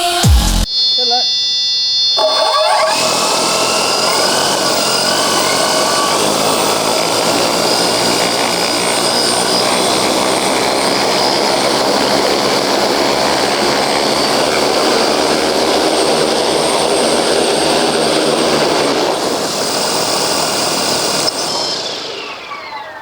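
A 3D printed racing drone flies with its motors buzzing, a loud, sustained high-pitched whine that wavers with throttle for roughly twenty seconds before cutting off near the end.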